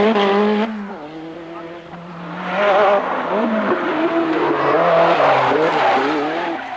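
Renault 5 Turbo rally car drifting sideways on a special stage, its engine revving and falling through gears with loud tire squeal, while a voice talks over it.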